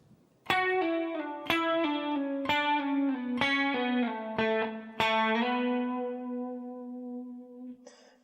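Electric guitar with effects plays the riff at a slow tempo, single picked notes every second or so ringing out with slides and sustain, close and clear, no voices.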